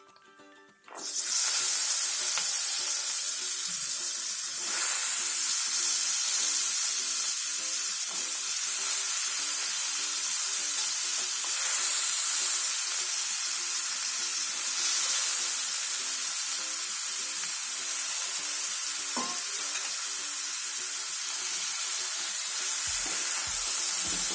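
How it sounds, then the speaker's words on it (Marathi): Bottle gourd pieces stir-fry in hot oil with spices, giving a loud, close, continuous sizzle with occasional scraping and stirring clicks, and no voices. "सर्व मसाल्यामध्ये दुधी व्यवस्थित परतवून घ्या म्हणजे दुधी पण व्यवस्थित तेलामध्ये भाजलं जाईल"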